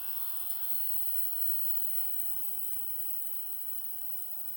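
A Creworks ultrasonic cleaner runs on its own with a steady electric hum and a high-pitched whine, constant and close, with no talking.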